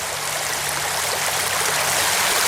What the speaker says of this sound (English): the water's moving pretty fast over this area